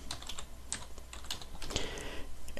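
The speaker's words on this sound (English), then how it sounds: "now I type in here, Eric Clapton" Quick, light typing on a computer keyboard, a run of soft clicking keystrokes in an irregular rhythm, close but quiet, with a slightly heavier tap near the end and no voices.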